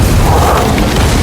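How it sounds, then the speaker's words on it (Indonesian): A spaceship self-destructs in a loud film explosion, a dense, roaring boom that fills the short moment with no voices. "mode penghancuran pesawat itu pun diaktifkan hingga terjadi ledakan"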